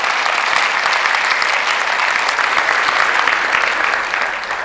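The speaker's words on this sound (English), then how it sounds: "So would you applaud again and show that that story was funny?" Sustained applause from an audience at a live literary conversation event, with dense, steady clapping throughout that tapers slightly at the end.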